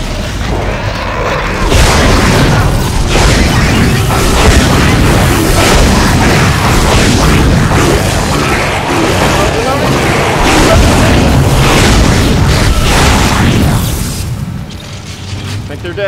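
Heavy weapon fire and mechanical clanks while fighting a necromorph in Dead Space on Xbox Series X, a loud continuous barrage of booms and ratcheting bursts that tapers off near the end.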